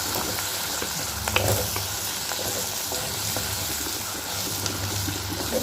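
Onions sautéing in a pan for a dried-fish and elephant-foot-yam curry, giving a steady close sizzle and hiss with a few soft stirring scrapes, no talk.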